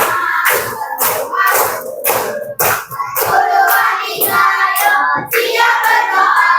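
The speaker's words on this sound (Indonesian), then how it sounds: "Tepuk dari satu, tepuk dari dua, tepuk dari tiga, tepuk dari empat, tepuk dari lima" Children clap in a steady rhythm during a counting clap song, sharp claps falling in regular groups and loud up close, with young voices chanting throughout.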